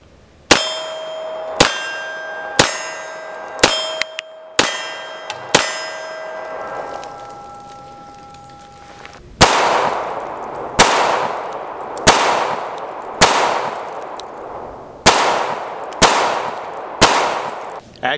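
Star Modelo Super B pistol firing a sequence of shots, each a sharp loud report with a ringing tail, spaced about a second apart, some with metallic clanging resonance between them.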